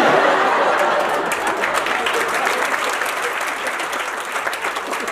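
Studio audience at a comedy show claps heartily, a broad even patter of many hands with a few chuckles mixed in, gradually thinning and softening over several seconds.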